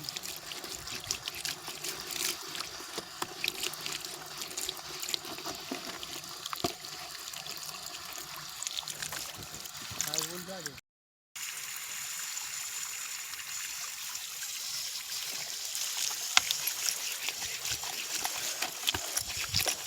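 Running water pours steadily over a farm irrigation filter mesh clogged with algae as it is washed, a constant close splashing and trickling with a brief break midway.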